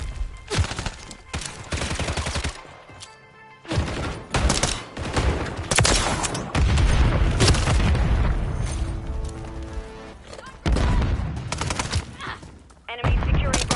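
Loud, dense gunfire and booming thermite explosions in a Call of Duty match, with rapid automatic bursts and heavy blasts tumbling over one another almost nonstop.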